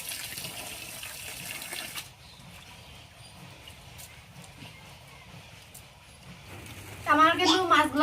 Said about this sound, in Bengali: এখন এগুলা ভালোভাবে ধুয়ে নিয়ে আসবো আমি।